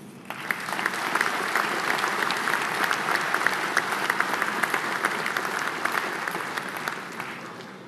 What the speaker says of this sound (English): a round of applause for all this year's medal and awards recipients